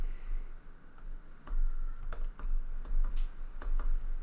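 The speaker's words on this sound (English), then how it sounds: "Let me keep pressing tab." Fingers typing and tapping the tab key on a computer keyboard during terminal work, a sparse run of crisp individual clicks with short pauses, close and fairly quiet.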